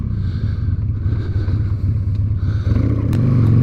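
A Harley-Davidson Sportster motorcycle engine idles close by with a loud, lumpy, throbbing beat, rising slightly toward the end as the revs pick up.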